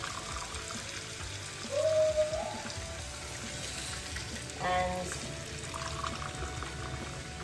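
A cup of water poured into a hot pot of Greek bourgouri gives two short hissing splashes a few seconds apart, quiet and close, over a faint background hum.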